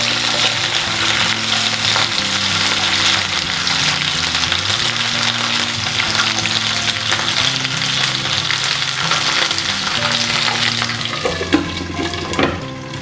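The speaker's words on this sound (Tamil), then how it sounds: "எல்லா பக்கமும் நல்ல எண்ணெய் படுற மாதிரி கிளறிக்கலாம்" Slit ivy gourd frying in oil while being stirred, a loud, continuous close-up sizzle with a few scraping stirs and clatters toward the end, no talking.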